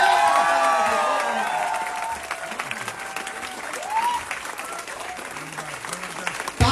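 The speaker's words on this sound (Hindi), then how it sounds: "तालियां, जोरदार तालियां होनी चाहिए।" An audience claps loudly and continuously at a recognition programme in Ranchi, with a few cheers mixed in, while a voice speaks over the applause as it gradually thins out.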